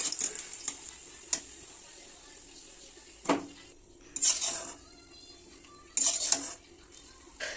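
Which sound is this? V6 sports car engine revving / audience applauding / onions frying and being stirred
onions frying and being stirred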